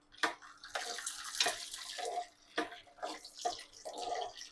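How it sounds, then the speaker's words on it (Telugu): Peanuts sizzle in hot oil with mustard seeds for a Rayalaseema-style snack, crackling and spitting in uneven, fairly soft bursts. "పల్లీల్ని కొంచెం వేగనిద్దాము."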